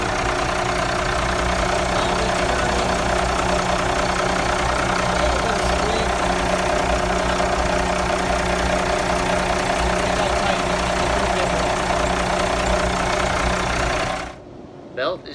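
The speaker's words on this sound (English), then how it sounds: "We got the tractor running." A tractor engine idles continuously at close range with a steady, rumbling, low, even chug, then cuts off abruptly near the end, leaving brief quiet.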